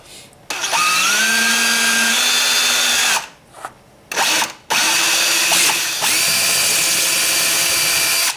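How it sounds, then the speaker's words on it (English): A power drill fitted with a unibit (step bit) bores a 1-inch hole through a dust cover on a 2007+ Subaru Impreza WRX, whining up and down in several loud bursts with short pauses between. "we need to drill a 1-inch hole through the dust cover"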